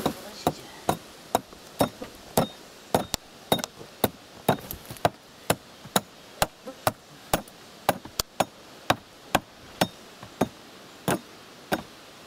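Hammering drives something into a gap packed with hay. The blows are sharp and evenly spaced, about two per second, loud and close, and they continue throughout.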